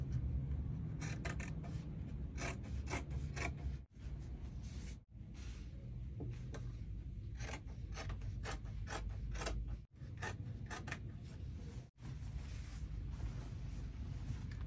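Sewing machine stitching a 4 to 4.5 inch cowl band onto the round arm opening of a bubu garment, a steady close mechanical whirr running almost continuously with a few brief pauses.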